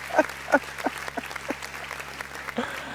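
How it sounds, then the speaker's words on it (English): Scattered audience clapping at a community gathering, a few distinct claps then a lighter patter, fairly quiet, with faint voices in the room. "they're clapping for me"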